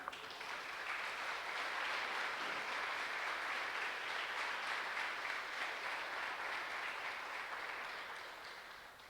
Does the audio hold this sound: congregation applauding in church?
yes